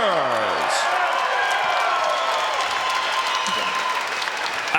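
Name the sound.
arena crowd applause for heavyweight fighters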